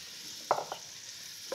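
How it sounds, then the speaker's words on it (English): Onions sizzle in a hot pan for linguine with walnuts and Swiss chard, a faint steady hiss broken by a couple of soft clunks as they go in. "So let's put the onions in."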